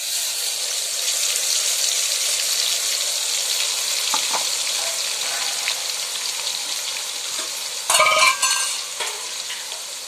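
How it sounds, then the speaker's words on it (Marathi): Masala paste with cumin fries loudly in hot oil, a steady close sizzle with a brief burst of louder crackling and stirring near the end. "आता त्याच्यामध्ये टाकायचं आता मसाल्याचा पेस्ट"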